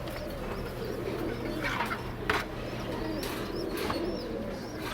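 Pigeons, a red khaki pair, coo softly in a loft, low repeated murmuring calls at moderate distance over a steady background hum, with a few brief sharp knocks.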